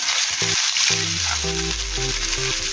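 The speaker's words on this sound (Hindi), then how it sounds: "अभी इसमें राई डालेंगे, जीरा डालेंगे, कड़ी पत्ता, प्याज डालेंगे बारीक कटा हुआ" Mustard seeds, cumin, curry leaves and finely chopped onion sizzle in hot oil for a rice-flour breakfast dish, a bright continuous frying hiss with crackles, while soft instrumental music plays underneath.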